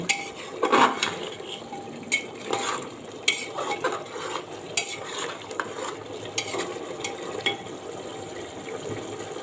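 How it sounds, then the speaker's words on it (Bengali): Meat braising in a pot on a gas stove, stirred with a utensil that scrapes and knocks against the pot in repeated uneven strokes over a low bubbling sizzle, close and steady, with no talking. "আর এখানে আমার গ্যাসের চুলায় মাংস হচ্ছে, কষাচ্ছি"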